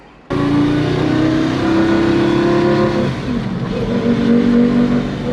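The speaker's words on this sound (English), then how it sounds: "when this valve is broken, it's opening and closing pulsation wise, so strange" A car engine abruptly starts up loud, droning steadily with a raspy exhaust tone that wavers and shifts pitch partway through, from a broken exhaust valve opening and closing.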